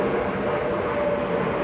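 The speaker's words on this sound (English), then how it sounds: "Excuse the plane." An airplane flies overhead near Logan Airport, a loud continuous engine roar and rumble heard outdoors by a farmers market, with no voices.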